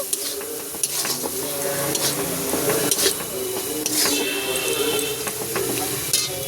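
Spice masala with red chilli, salt and cumin powder frying in a pan with a little water, a loud steady sizzle under repeated spoon scraping and clinks against the pan, close up.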